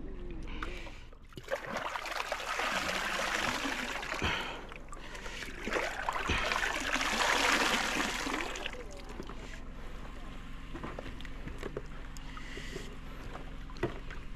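Water is poured into a small fishing boat out at sea holding a fresh squid catch, heard as two rushing, splashing bursts over a steady low hum, with some faint talk nearby.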